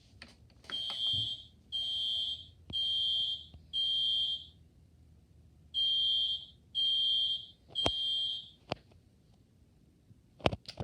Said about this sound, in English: right here we have what looks to be a fire alarm